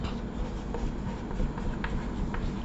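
Pen or chalk writing out a maths answer by hand, a steady close scratching and tapping of strokes over a constant background hiss.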